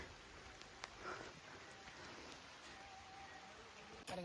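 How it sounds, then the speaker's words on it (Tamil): Light drizzle falls over a turmeric field, a faint, steady soft hiss with a few scattered drop ticks, no voices. "மழை தூர ஆரம்பிச்சிருச்சு"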